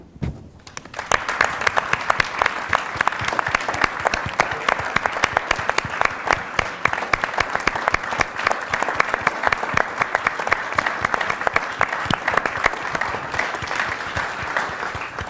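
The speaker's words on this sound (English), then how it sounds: "we'd love to give you a round of applause" A large audience standing to applaud workers at a Pledge to American Workers event, a dense, steady round of clapping that continues evenly and loud for the whole stretch, with no talk over it.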